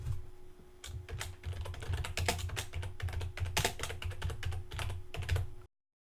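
Close, quick typing on a computer keyboard with many crisp key clicks in irregular runs over a faint low hum, then sudden silence at the end.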